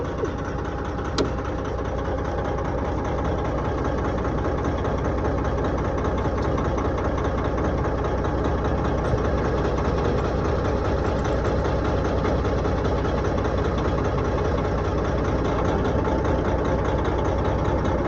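A heavy semi wrecker truck engine idles steadily and loudly, a continuous deep rumble with a faint knocking texture that holds unchanged throughout, close by with no talking.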